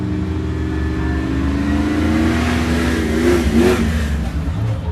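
A 1991 Jeep YJ with an LS 6.0 V8 on 40-inch tires launches off the start at an off-road race, its engine revving hard and climbing in pitch, loud and close, with a deep rumble throughout.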